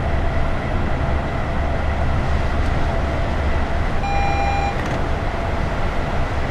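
A Class 350 electric train in a train simulator game runs on the West Coast Main Line from London Euston to Crewe. A steady loud rumble and hum continue throughout, with a brief high tone partway through.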